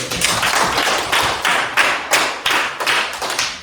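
Applause from a classroom of students, a dense rattle of many hands with irregular louder surges, fairly close and continuing steadily throughout without talk.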